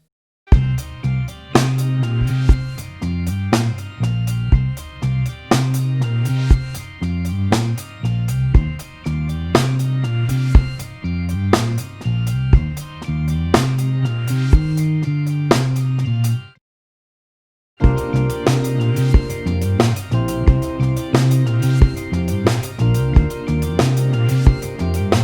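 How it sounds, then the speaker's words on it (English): Drum kit playing a linear groove over a full backing track: dense, steady music with crisp drum hits on top, cutting out briefly to silence for about a second before resuming. "Now playing together with the backing tracks."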